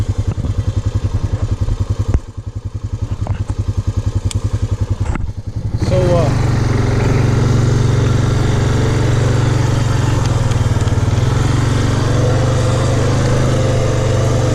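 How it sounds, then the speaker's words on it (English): A 2006 Honda Fourtrax quad engine runs nearby with a loud, rumbling throb that steps up in intensity about halfway through and holds steady after that. A few brief knocks come early. "I want to burn up some of the old gas that's in this quad"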